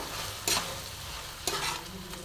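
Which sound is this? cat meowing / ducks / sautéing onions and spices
sautéing onions and spices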